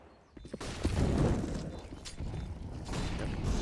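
Grenades flying and bursting during a round retake of Counter-Strike on the Inferno map, heard as a dense wash of clatter, bangs and game noise with faint talk beneath.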